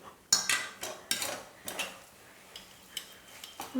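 Spoon stirring a banana filling with cashews and raisins for Kerala steamed banana-leaf pancakes in a pan, a series of clinking, scraping strokes at an uneven rhythm, close and fairly quiet with no talking.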